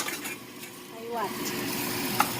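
Potatoes sautéing in a pan, a soft sizzle under occasional scraping and a light metallic clink of a utensil, with brief murmured speech in the background.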